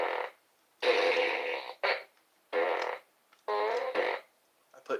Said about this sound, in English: I put new batteries in the fart gun